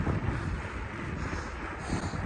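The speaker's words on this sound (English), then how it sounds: "Quite windy." Wind gusting across an open outdoor campsite on the winter solstice, a steady broadband rush with low buffeting rumble on the microphone throughout, no voices.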